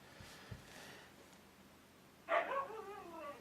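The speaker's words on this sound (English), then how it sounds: "Sorry about my dog, he wants in, I guess." A dog barks once, fairly close, then gives a short whining yelp over quiet room tone.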